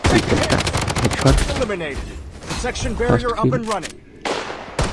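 Gunfire in the mobile shooter Blood Strike, including an M4A1 rifle and a pistol, with rapid repeated shots throughout under a man's speech, loud and close.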